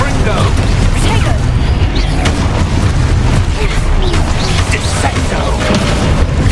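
Confringo spell blasts in the Hogwarts Legacy game, a dense, loud run of booming explosions and rumbling impacts with crackling debris that keeps going without a pause.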